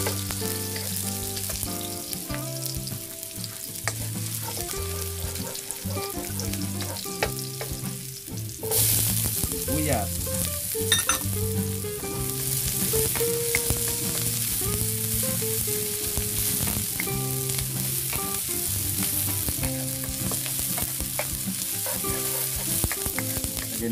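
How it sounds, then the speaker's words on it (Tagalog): Meat sautéing with garlic in a hot pan, a continuous loud sizzle and frying crackle with stirring scrapes throughout, alone with no talking. "Sasangkutsahin muna natin yung ating karne."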